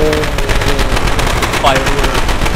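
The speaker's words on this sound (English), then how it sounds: "firework." Fireworks going off in the video game Left 4 Dead 2, a loud, dense, continuous rattle of rapid crackling bursts like gunfire that fills the whole stretch, with some voice underneath.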